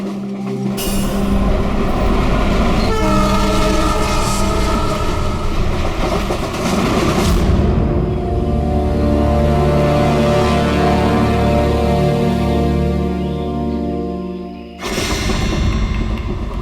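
A passenger train runs along the rails with a steady, loud rolling rumble and rhythmic clatter that holds throughout and cuts off briefly near the end before resuming.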